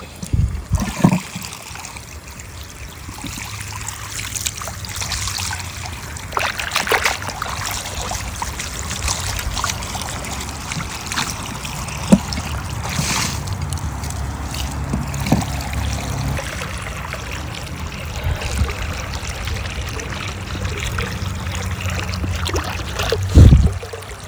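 Water runs and trickles steadily into a garden bird bath outdoors, a continuous close stream with occasional splashes and small knocks.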